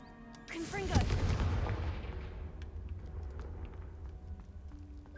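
A Confringo fire spell fires in Hogwarts Legacy, a sharp magical crack and burst that rolls into a rumbling, crackling blast with debris-like ticks, then trails off into a quieter tail.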